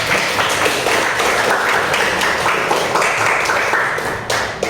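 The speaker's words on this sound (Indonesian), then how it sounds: "Tepuk tangan dulu untuk kelompok 5" Classroom of students claps for a group, a dense, even round of applause lasting the whole few seconds and tapering slightly at the end.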